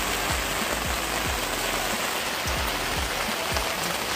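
Steady, loud rain hisses continuously on a surface, with occasional low knocks and thuds underneath.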